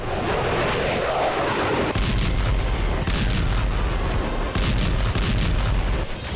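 Explosions from a Russian attack on the port of Odesa roll out as repeated heavy booms over a continuous dense rumble, loud and reverberant with no voices.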